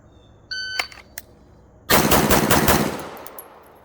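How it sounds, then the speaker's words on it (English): Staccato P DPO pistol fired five rounds at three yards: a rapid burst of loud, sharp close-range shots, preceded by a few brief clicks and tones. "So I have to get down 5 rounds in less than 5 seconds."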